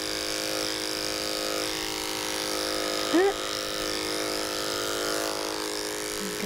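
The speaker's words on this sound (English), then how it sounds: "turn the clipper around and do that way too" An electric clipper buzzes steadily and close up while it shaves a dog's feet, holding an even drone throughout with a brief rising squeak partway through.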